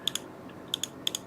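A computer mouse scroll wheel gives quick, crisp clicks in three short pairs spaced evenly apart, close up and quiet, with nothing else sounding around them.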